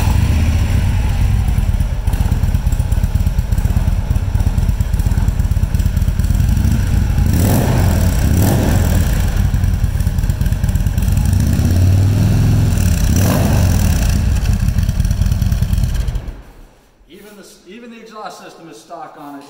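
A 2016 Harley-Davidson motorcycle with just under 6,800 miles runs loud and close, its engine rumbling and revving for about sixteen seconds before it cuts out and the sound drops away sharply.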